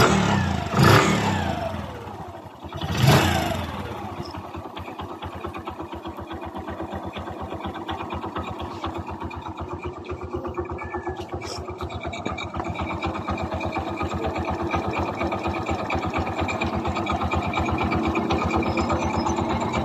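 A Kawasaki Bajaj CT 100 motorcycle engine, after a timing chain repair, starts with a couple of sharp bursts, then settles into a steady, rapid idle that runs continuously and close by.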